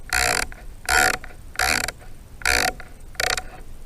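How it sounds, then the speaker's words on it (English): Rifle scope dials are turned in five separate short bursts of close, raspy clicking, evenly spaced with brief pauses between them. "Let me start turning on the scope dials here."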